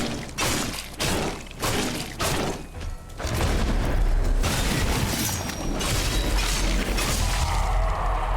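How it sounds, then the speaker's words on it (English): A loud explosion in the souls-like action RPG Morbid: The Lords of Ire, arriving as a sudden boom of rumbling, crashing noise that sweeps in after a few sharp impacts and hangs on as a dense, sustained roar. "Perfectly timed explosion there"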